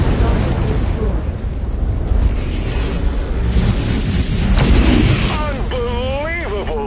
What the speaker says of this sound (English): They managed to survive that massive explosion!